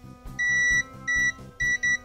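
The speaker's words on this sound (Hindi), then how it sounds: "मल्टीमीटर पे बीप आ रही है" Continuity beeps from a multimeter probing a CPU-shorted track on a Redmi 9 family smartphone board: four sharp, loud tones of uneven length in quick succession, layered over a soft pulsing low hum.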